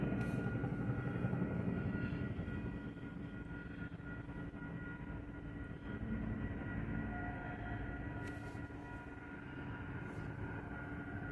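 A helicopter circling overhead near a fire on the South Shore gives a steady, distant engine and rotor drone that rises and falls slightly as it swings around, with no voices.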